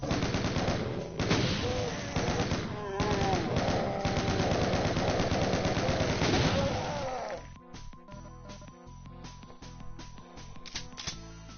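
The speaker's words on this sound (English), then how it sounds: "Rocket launcher." Weapon fire in the Game Boy Advance version of Doom: the first seven seconds hold a dense, loud, continuous barrage of game combat sound, then sharper separate blasts with short gaps between them, with no talk.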